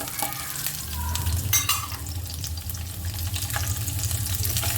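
Garlic and onion sizzle and get stirred in a hot pan, with a steady frying hiss and occasional scraping from the stirring.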